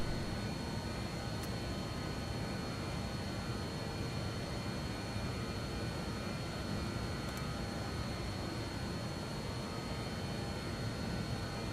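Steady, even roar of a Cessna Citation X jet engine in Flight Simulator 2024, just after the aircraft gets airborne: a constant broadband whoosh at moderate level, unchanging throughout, with no talk.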